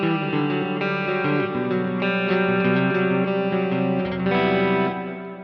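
Electric guitar played through a JOYO Clean Glass pedal with delay and reverb, ringing out in sustained chords and picked notes that trail and wash together, loud and close with no talking.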